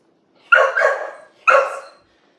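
Puppies barking behind a gate, two separate bursts of sharp, fairly loud yapping barks about a second apart, each trailing into a whiny tail, with silence around them.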